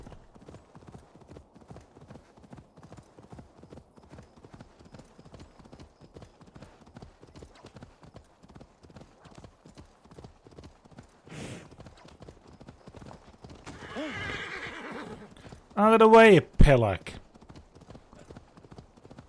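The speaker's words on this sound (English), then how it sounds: "On my horse? Riding like a madman?" A horse in Assassin's Creed Valhalla clip-clops along at a steady rhythmic pace under a man's speech, with a brief whinny and louder rider voices near the end.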